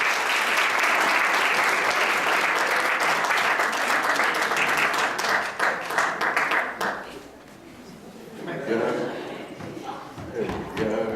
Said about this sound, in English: you need to give them a big round of applause